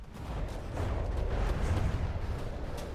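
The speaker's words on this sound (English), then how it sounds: "We had an internal explosion, but didn't seem to be super important." Deep rumbling explosion inside a battleship in the video game From the Depths, a loud, sustained low boom that swells and holds for about three seconds, with faint crackling above it and no voices.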